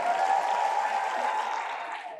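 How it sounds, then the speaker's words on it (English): An audience claps steadily for a keynote speaker at an event, a dense, even wash of applause from a crowd that carries on without a break and fades slightly at the end. "We'll still continue to clap until it's positioned appropriately."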